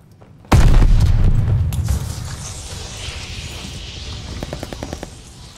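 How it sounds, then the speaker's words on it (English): A grenade detonates in Call of Duty: Vanguard with a sudden loud boom that fades into a long rumbling decay, followed by a few faint rapid clicks near the end. "Incoming grenade."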